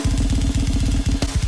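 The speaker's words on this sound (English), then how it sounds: "this is how the blast beats sound again" Programmed extreme-metal blast beats on drums, a rapid machine-like pattern of kick and snare hits with dense low-end pounding, steady and loud throughout with a brief break near the end.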